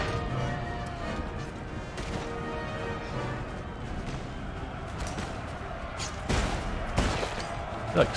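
Musket volleys crackle in a Napoleonic-era Empire: Total War battle, a dense, continuous din of massed firing with sharper single reports near the end, layered over battlefield clamor.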